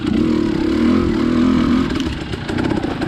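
A KTM 300 Enduro two-stroke dirt bike engine buzzes steadily at mid revs, its raspy drone holding fairly constant, then dipping slightly before picking back up, loud and close with no talking.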